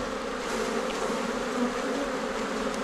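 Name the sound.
honey bees at beehives on Réunion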